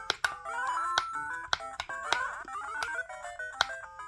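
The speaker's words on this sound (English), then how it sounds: "I don't know who made this D-pad, but why is so loud" Loud plastic D-pad of an RX6H budget handheld console clicks sharply and repeatedly, at an irregular quick pace, over chirpy Game Boy Color-style game music with no talking.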